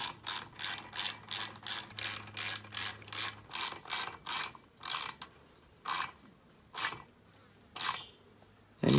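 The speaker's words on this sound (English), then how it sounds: "I'm just going to go ahead and snug these up" Bolts on a BlackHawk paramotor pull-start being snugged up with a ratchet, a quick run of close, crisp clicking strokes, then slower, spaced clicks as the bolts tighten.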